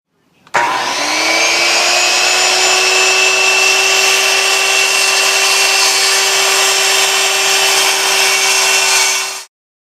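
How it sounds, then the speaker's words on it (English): A DeWalt worm drive circular saw makes one continuous cut through wood. It starts abruptly and holds a loud, steady high whine for about nine seconds, then stops, with no talk. "For this cut, I'll be using a DeWalt worm drive skill saw."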